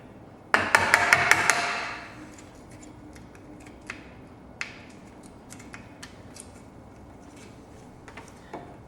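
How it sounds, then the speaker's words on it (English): A hammer strikes a chisel cutting a timber cross halving joint: a rapid burst of sharp, loud blows, then scattered lighter taps and clicks spaced apart, close up with no talk. "chiseling"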